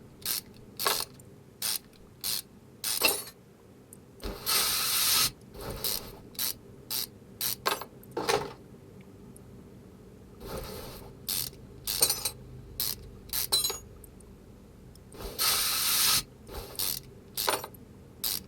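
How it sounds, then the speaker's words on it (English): Repeated bursts of a ratchet wrench clicking as turbo bolts are undone in Car Mechanic Simulator 2021, a dozen or so short runs spaced irregularly with a few longer spins, clear and alone with no talk. "gotta take the turbo off first"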